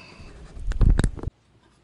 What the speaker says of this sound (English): All right, now I got to cut it out.